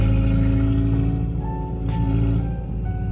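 A 1999 Honda Civic SiR running with its muffler removed on a straight pipe, giving a loud, steady, close droning rumble with a faint rise and fall in pitch throughout, and no talk over it.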